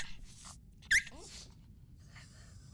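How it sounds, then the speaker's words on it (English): A dog character in the video game Eternal Sonata gives a single short, sharp bark over quiet game ambience. "Silly dog, nothing's gonna come out of there no matter how much you bark."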